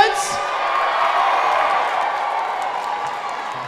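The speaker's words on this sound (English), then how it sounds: "Ladies and gents, give yourselves a big cheer." Museum audience at a Nintendo DS world record event cheering and whooping, a loud burst that swells and then slowly fades into a sustained crowd roar.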